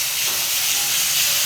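Garlic, ginger and green chili paste sizzling in a hot pan for an aloo paratha filling, a loud, steady, close hiss with no pauses.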